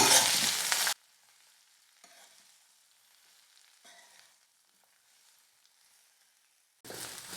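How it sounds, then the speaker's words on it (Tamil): Ridge gourd peel and tamarind sauté in oil over a low flame while a thuvayal chutney is being made. A loud sizzle opens and closes the stretch, with quieter stirring and soft frying in between. "எண்ணெயிலேயே வந்து தீயை குறைச்சி வச்சுட்டு நல்லா வதக்கணும்."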